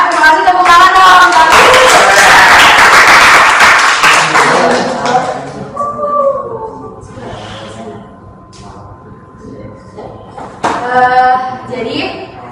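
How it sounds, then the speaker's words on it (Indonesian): Audience at a school debate on full-day schooling breaks into loud, dense applause that swells for several seconds and then fades, followed by a quieter stretch with a voice speaking and a short burst of clapping near the end. "Terima kasih, tepuk tangan dong."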